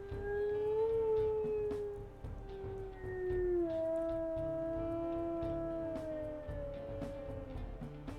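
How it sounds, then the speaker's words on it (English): A long, wavering wolf howl in the video game WolfQuest Anniversary Edition rises and slowly falls, followed by another drawn-out howl, the tones gliding smoothly over a low steady background rumble. "Both of those howls actually sound like they came from the same wolf"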